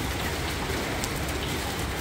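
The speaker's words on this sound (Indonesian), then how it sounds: "Hujan teman-teman." Steady rain pours down at close range, a dense, even hiss of drops striking surfaces, with no voices over it.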